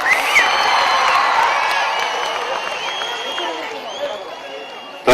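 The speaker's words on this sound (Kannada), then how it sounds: "ಹಿಂದೆ ಚಪ್ಪಾಳೆ ತಟ್ರಪ್ಪ ಅವ್ರಿಗೆ." A festival audience at Kanakagiri Utsava claps and cheers in a dense, loud, sustained wash of noise, with whoops and shouts rising above it until it cuts off abruptly.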